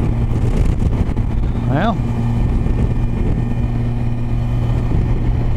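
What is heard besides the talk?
Kawasaki Versys 1000 motorcycle riding at 65 mph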